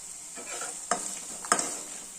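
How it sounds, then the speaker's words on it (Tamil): Ginger and dried red chillies sauté in a pan under a steady soft sizzle, with two crisp spoon scrapes against the metal, close and alone. "இஞ்சி லேசாக வதக்கிக்கலாம்"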